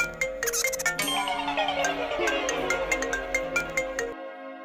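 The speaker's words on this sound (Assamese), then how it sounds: "ৰিচিভ কৰাচোন, কোনে ফোন কৰিছে?" A mobile phone ringtone plays loud and close, a bright looping melody of repeated chiming notes that carries on steadily for several seconds and then cuts off abruptly.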